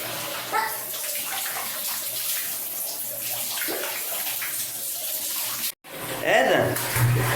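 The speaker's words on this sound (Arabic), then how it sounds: "بس خلاص وقف الميه." Water running into a home bathtub while a young child is bathed, a steady broadband rush continuing loud and close, briefly cut off near the end before resuming, with a voice and other speech over it.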